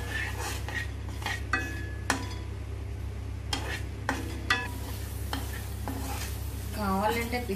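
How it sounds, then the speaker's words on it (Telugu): Cashews and almonds fry in ghee for a semiya kesari, a continuous close sizzle under repeated metal clinks and scrapes of a spoon stirring against the pan. "దీనిలో మనం ఫస్ట్ జీడిపప్పు బాదం పప్పు వేసి ఫ్రై చేసుకుందామండి."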